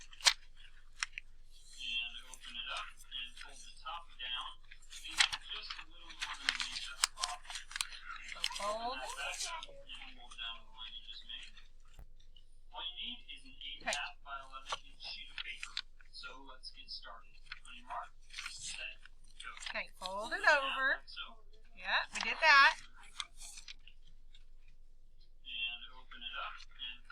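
Paper being folded in half during a science class activity: close, crisp crinkling and rustling in repeated bursts, with a voice talking over it throughout.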